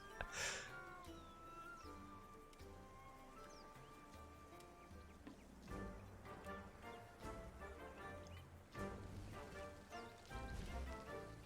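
Cats meowing in the video game Monster Hunter World: several short, clear meows and mews come in bursts over a busy backdrop of game music and ticking effects, close and fairly prominent.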